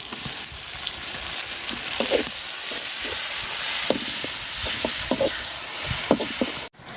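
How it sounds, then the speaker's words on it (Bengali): Onion, chili and garlic paste frying in hot oil, a dense close sizzle with scattered crackles and pops throughout, no one talking. "মাছ বাজার তেলে পেঁয়াজ আর মরিচ দিয়ে দিলাম একটু রসুন বাটা দিয়ে দিলাম"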